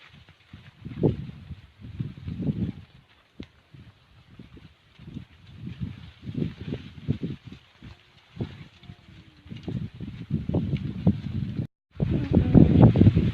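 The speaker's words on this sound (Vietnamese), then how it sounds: "Gió mạnh quá." Strong wind gusts through a young cornfield on a farm plot at Ia Pa, buffeting the microphone in irregular rushing bursts that rise and drop, with brief lulls between them.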